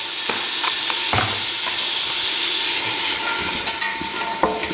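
Garlic sizzles steadily in a hot pot for minestrone soup, a close, continuous frying hiss broken by scraping stirs and light clinks of the utensil, with no voices.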